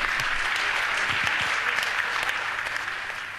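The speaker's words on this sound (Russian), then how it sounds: "Аплодисменты вам." An audience at a live outdoor music concert applauds, with sustained dense clapping that fades slightly toward the end, heard alone.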